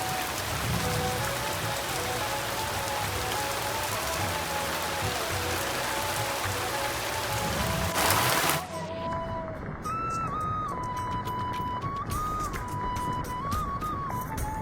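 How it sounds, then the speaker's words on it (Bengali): Heavy rain pours steadily onto surfaces, a dense continuous hiss and patter with a faint tonal hum running underneath; the texture shifts slightly partway through but the downpour never lets up. "কখন যে বৃষ্টিটা থামবে না কখন যে আমি যাব"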